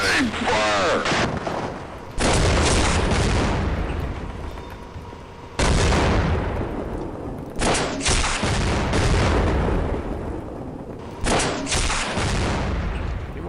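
Rockets launching and exploding in the Half-Life mod Echoes: four loud, close blasts, each hitting suddenly and rumbling down over a couple of seconds, with a voice speaking in between.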